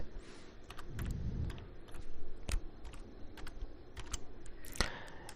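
Bursts of clicks from a computer keyboard as someone types text into a PowerPoint slide, with irregular keystrokes and a few louder taps through a quiet room.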